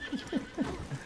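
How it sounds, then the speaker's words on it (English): A horse whinnies in Red Dead Redemption 2, three short rising neighs in quick succession followed by a softer fourth, close and fairly quiet with no talk over it. "Damn horse."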